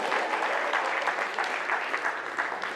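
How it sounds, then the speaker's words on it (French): A live audience applauding at a stand-up show, dense continuous clapping at moderate loudness that fills the whole moment without letting up. "Applaudissez pour le bœuf, s'il vous plaît."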